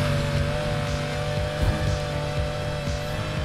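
A Lamborghini Countach in Need for Speed Heat screams along at top speed, a steady loud engine drone with tire hiss and faint squeals, no talking.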